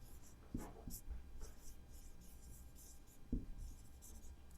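Chalk or pen writing during a Hindi-medium language lesson, with soft scratchy strokes and light taps, quiet and close, against faint room noise and no talking.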